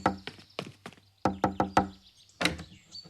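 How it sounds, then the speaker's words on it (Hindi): Someone knocks on a door in sharp, close raps that come in uneven bursts of two to four, with short pauses between them and no voices. "रोहित, दरवाजा खोलो।"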